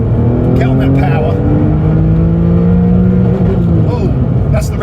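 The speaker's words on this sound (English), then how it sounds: "Oh, that's the rev limiter." A Porsche 911 (996) Carrera 4S engine roars loudly at high, steady revs, its pitch held flat against the rev limiter at 7,500 rpm, with a voice talking over it.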